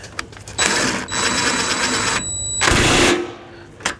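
An impact gun tightens the headlight bolts on a 2009 Subaru Forester, its motor whirring loud and close in several bursts with short pauses between them.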